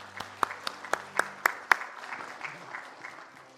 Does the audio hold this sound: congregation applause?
yes